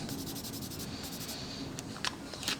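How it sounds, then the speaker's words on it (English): A piece of tape being rubbed gently down onto a flat surface, a soft continuous scratchy rubbing close up with a few brighter scrapes near the end. "another piece of tape, lay it down there, gently rub"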